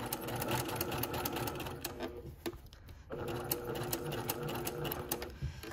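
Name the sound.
sewing machine stitching a pocket bag seam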